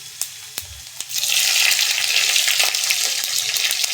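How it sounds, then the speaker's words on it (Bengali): Whole cumin seeds and chopped green chilies drop into hot oil after a couple of light taps, then burst into a loud, steady sizzle with faint crackles throughout. "তেলে ফোড়ন দিয়ে দেবো। দিচ্ছি গোটা জিরে, আর দিয়ে দেবো কেটে রাখা কাঁচা লঙ্কা।"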